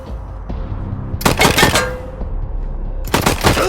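Two loud bursts of gunfire in Wasteland 3, each a fast cluster of sharp shots separated by a quieter stretch of low background hum.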